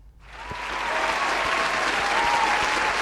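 Applause sound effect played on a horror movie podcast: crowd clapping swells in quickly from near silence, then holds as a full, steady ovation.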